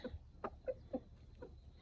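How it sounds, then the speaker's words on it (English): Backyard chickens cluck in short, soft bursts while feeding among tomato plants, a handful of separate calls spread across a quiet moment. "that's why I love chickens. They will eat all of the pests."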